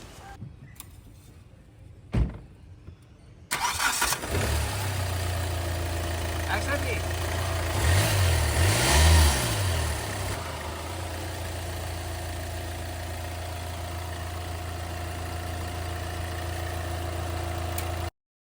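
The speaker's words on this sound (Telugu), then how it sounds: "ఒకసారి ఇంజిన్ స్టార్ట్ చేసి ఇంజిన్ కండిషన్ కూడా ఎలా ఉందన్నది ఒకసారి నాయిస్ ఒకసారి మనం చెక్ చేద్దామండి" A used car's engine cranks and catches after a few quiet clicks and knocks, then settles into a steady, close idle with a brief rise in revs before running evenly.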